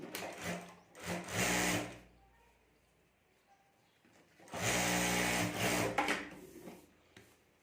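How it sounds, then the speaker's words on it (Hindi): A sewing machine stitching a zip onto a sling bag runs in two bursts, a short whirring run near the start and a longer steady run later, close and clear with quiet handling between. "यहाँ हमें सिलाई कर देनी है"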